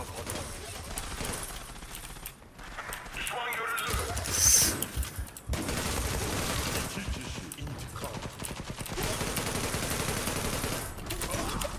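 Bursts of gunfire crackle from the Zula online shooter game, mixed in with other game sounds while someone talks over them.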